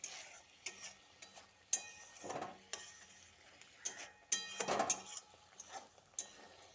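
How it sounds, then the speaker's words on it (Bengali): A spoon stirs ridge gourd curry with sugar and green chillies in a pan, giving faint, intermittent scrapes and light metal clinks at an uneven rhythm, with no talking. "তারপর আবারও একবার ভালো করে নেড়েচেড়ে মিশিয়ে নিচ্ছি"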